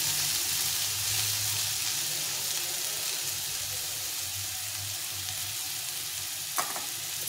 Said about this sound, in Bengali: তেলে দিয়ে একটু পরে আলুটা দিয়ে দিলাম। একটু টাইম নিয়ে এটা ভাজতে হবে।